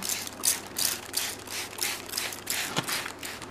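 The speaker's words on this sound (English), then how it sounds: "now I'm gonna spray with my methyl solution as well" Repeated bursts from a spray bottle misting a methyl solution onto a rotting succulent, roughly seven or eight short hissing squirts in a steady rhythm, close and clear with no talking.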